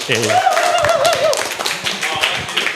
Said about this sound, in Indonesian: Tepuk tangan lagi buat Timothy